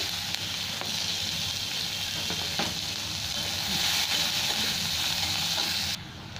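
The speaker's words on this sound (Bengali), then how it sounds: "পেঁয়াজটা লাল লাল করে ভেজে নেব" Small onions with nigella seeds frying in hot oil, a dense continuous crackling sizzle heard up close and alone, with faint stirring clicks, easing slightly near the end.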